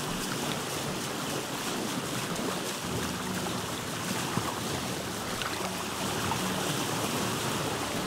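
A raft drifts across ocean water in Vintage Story, carried along by a steady, continuous wash of waves and wind that holds at an even loudness throughout, with no voices.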